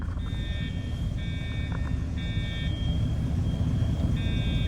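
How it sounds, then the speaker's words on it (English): A school fire alarm sounds in repeated electronic tones, each lasting about a second with short gaps, heard from a distance over a heavy low rumble of background noise. "I bet they recognize it's a fire alarm."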